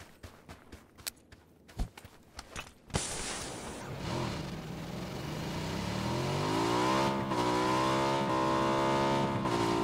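Motorcycle in PUBG on snowy Vikendi: a few scattered footstep-like thumps, then an engine starts and revs, rising in pitch and growing steadily louder and close for several seconds.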